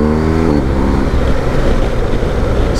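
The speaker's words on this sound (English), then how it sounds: "That Honda Goldwyn's getting closer." A Honda Gold Wing motorcycle drawing closer on a road in Anglesey, its engine a steady, loud rumbling drone with no speech over it.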